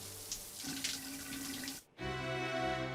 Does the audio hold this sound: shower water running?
yes